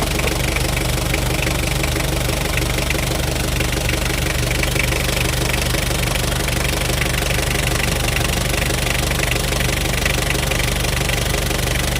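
A car engine with a faulty alternator supply runs at a steady idle, a continuous low rumble with a faint rhythmic knock, close and unchanging throughout, no voices.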